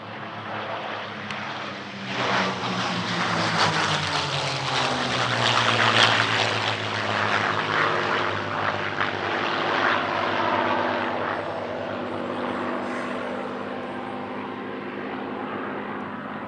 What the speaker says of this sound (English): Arriving in Italian service in 1949 was this locally produced training aircraft, the Fiat G46.